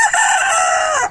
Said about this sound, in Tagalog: Napakaingay po ng aming manok dahil ang aga-aga ko dito.